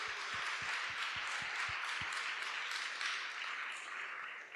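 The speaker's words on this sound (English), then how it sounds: "Please give yourselves a round of applause." A conference audience at a blockchain event's closing ceremony claps steadily in a dense, sustained round of applause, with a few sharp nearby claps standing out at the start.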